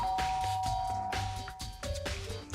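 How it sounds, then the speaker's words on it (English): A chiming doorbell rings in the video game Danganronpa: Trigger Happy Havoc, sustained bell tones sounding over the game's background music. "I pressed the doorbell"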